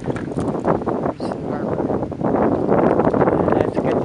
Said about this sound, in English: That wind's blowing in from that direction